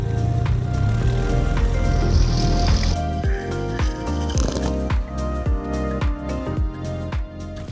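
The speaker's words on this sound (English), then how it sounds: "Water's ejecting, you know it's good." Mercury 9.9 four-stroke outboard motor idling as it ejects cooling water, a steady splashing, trickling stream over a low engine hum, close and continuous.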